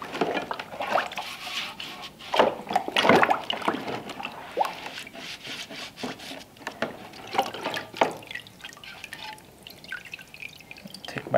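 A rusty part rinsed in a rust dissolver tank, liquid dripping and sloshing in irregular splashes and trickles, close and fairly steady throughout.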